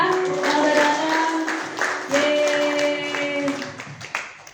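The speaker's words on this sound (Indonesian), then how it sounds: "Tepuk tangan dong buat mereka yang udah datang" A small crowd of young people at a youth church service clap for the guests who came, a scattered round of hand claps under cheerful talk and voices.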